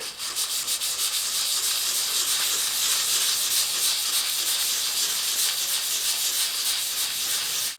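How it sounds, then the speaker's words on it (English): A 1000 grit abrasive pad rubbing the peeling clear coat of a car bonnet with light pressure, giving a loud, steady, hissing scrape that continues without a break from start to finish. "I'm going to carry on using this abrasive pad without pressing too hard"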